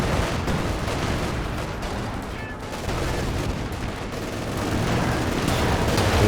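Werfer rocket artillery barrage in Company of Heroes 2, a dense roar of rapid impacts and gunfire sustained throughout a large 4v4 battle, with a voice speaking faintly beneath.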